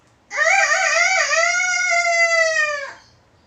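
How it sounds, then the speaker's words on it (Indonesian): A single loud rooster crow, clear and close, rising then holding a long drawn-out note before cutting off. "Pagi hari terdengarlah suara kokok ayam."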